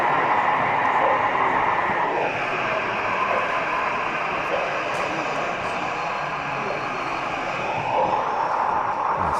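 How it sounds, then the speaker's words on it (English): Model railway locomotive running on an exhibition layout, a steady continuous mechanical rumble and whine with a rising and falling engine-like tone, heard amid general hall ambience at close range. "I'll just catch this loco movement"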